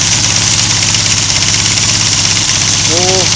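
A BSA A10 Super Rocket motorcycle engine runs with its primary cover removed, a loud, steady close-up idle with even mechanical clatter and a brief squeak near the end.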